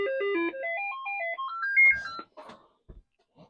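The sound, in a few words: Commodore 64 diagnostic cartridge sound test tones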